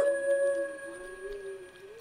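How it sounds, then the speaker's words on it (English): A sea lion call used as a sound effect: one sustained, wavering tonal bellow that slides slowly in pitch, fairly loud and heard alone. "Okay, we'll have a sea lion."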